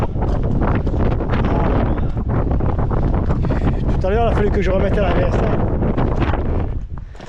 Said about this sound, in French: Là, on a le vent en pleine pipe.